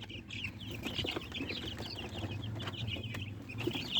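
White and local farm chickens cluck and chatter in a yard, with soft overlapping calls over a low background rumble; no one speaks.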